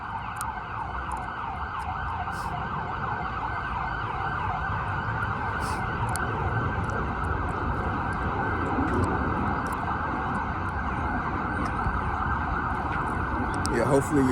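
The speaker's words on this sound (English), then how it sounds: "hopefully whoever is in the ambulance is doing well" Ambulance siren wailing steadily throughout on a Washington, DC street, loud and continuous with a constant wash of traffic noise underneath.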